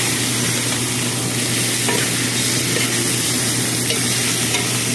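A whole chicken sautés in a hot pan for an Ilonggo chicken curry, giving a loud, steady sizzle and frying hiss throughout. Occasional faint stirring scrapes rise over it, with no talk.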